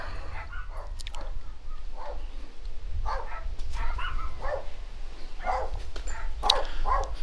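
Several scattered barks and yips from dogs at moderate distance, irregular and playful, over a low steady rumble.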